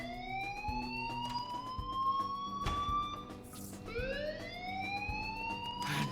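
A fire alarm goes off in the video game Life is Strange, sounding as two loud rising siren wails, one after the other, over a background of soft thumps and clicks.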